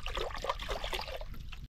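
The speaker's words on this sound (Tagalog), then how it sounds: "Lagyan na natin ng sabaw." Water poured into a cooking pot to make broth, a short steady splashing trickle heard close and alone, cutting off abruptly.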